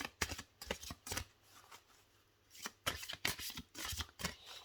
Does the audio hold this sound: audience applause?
no